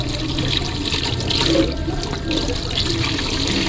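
Water runs steadily from a tap while washing dirty dishes, a continuous rushing splash that stays fairly loud throughout with no voices.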